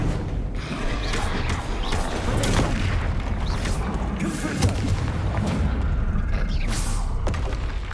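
The Incendio fire spell cast in Hogwarts Legacy, a loud, dense roaring burst of flame with rumbling booms that holds steady for several seconds.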